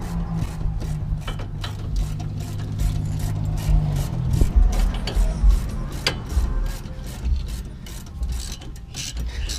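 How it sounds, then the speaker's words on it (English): A ratchet works on a 17mm traction rod bolt on a Mazda RX8, rapid clicking ratchet strokes in bursts with metallic clanks and a brief mechanical whir near the start. "you need a 17mm bolt and a ratchet to hold it from one side"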